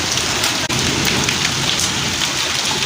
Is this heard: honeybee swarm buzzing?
no